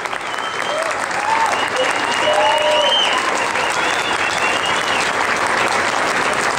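A jazz concert audience claps loudly and continuously for the drummer. Some cheers and whistles rise over the steady wash of applause.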